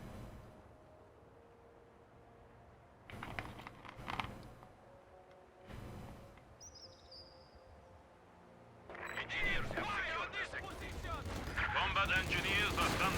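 Scattered gunshots and bursts of rifle and machine-gun fire as conscripts and pioneers clash in Company of Heroes 2, growing into denser, louder fighting toward the end, with faint talk underneath.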